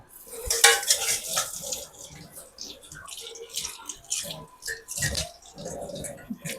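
Cooking pots and dishes being washed close up, with irregular clanks and scrapes of metal and utensils, water splashing and dripping, and faint voices in the background.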